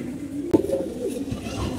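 Pigeons coo faintly in a low, soft murmur with a brief sharp knock near the start, and no voices.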